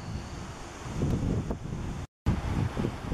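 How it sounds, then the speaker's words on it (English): Breezy, wet outdoor wind rushing across the microphone in steady low buffeting gusts, loud and close, with one brief dropout in the middle. "It's a bit breezy today"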